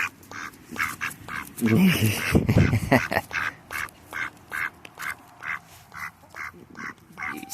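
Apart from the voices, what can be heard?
duck quacking while eating suet cake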